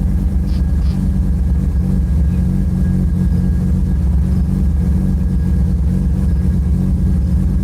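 A 1995 Mazda RX7 rotary engine idling steadily up close, a loud low thrumming drone with slight unevenness as it hunts and settles, no talking over it.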